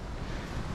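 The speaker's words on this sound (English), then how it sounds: "it's very windy here for today." Strong wind buffets the microphone in a continuous low roar with no pauses.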